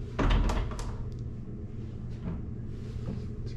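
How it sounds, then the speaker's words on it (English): A stuck hotel room door at the Sahara Las Vegas is forced open with a thunk and a rattle, followed by faint knocks and handling noises, with no speech. "but how to open this door?"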